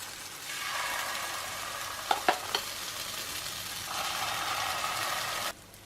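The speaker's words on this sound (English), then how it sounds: "butter or coconut oil, and we'll get the pancakes cooking" Keto blueberry pancakes sizzling in butter or coconut oil in a pan, a soft steady frying hiss with a couple of brief clinks midway, fading out near the end.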